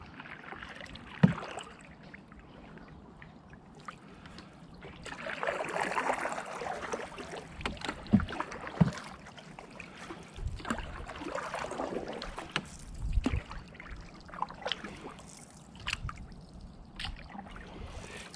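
A canoe slides into the water at a quiet wild camping spot, with soft sloshes and trickling splashes coming close and fairly faint, plus a few sharp knocks against the hull over calm outdoor background.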